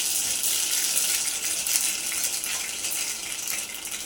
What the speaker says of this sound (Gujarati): તેલ ગરમ થઈ ગયું છે, હવે રાઈ નાખશું. 1 ચમચી રાઈ નાખીશું.